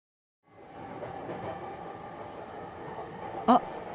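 An express train rumbles steadily along the tracks after a brief silence, with a short metallic squeal near the end.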